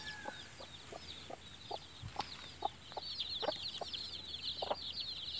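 Chickens in a poultry cage cluck in repeated short calls through the clip, with a steady chorus of twittering bird-like calls in the background.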